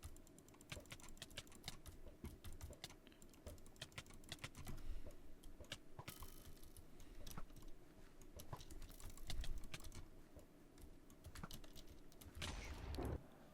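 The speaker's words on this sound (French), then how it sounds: "vous entendez quand même assez fort le clavier et la souris" Rapid, continuous computer keyboard typing with interspersed mouse clicks, picked up by a Fifine AmpliGame AM8 microphone, close and fairly quiet, clattering steadily for several seconds with no voices.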